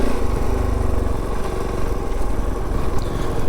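A Kove 450 Rally motorcycle engine drones loud and steady while riding over cobbles on a trail, a close continuous mid-pitched roar with wind noise.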